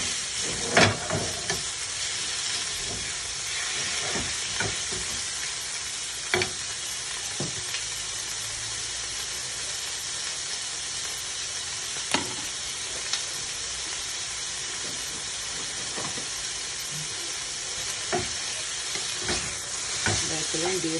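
Beef frying in a wok, a constant hissing sizzle close by with scattered clinks and scrapes as it is stirred, no voices heard.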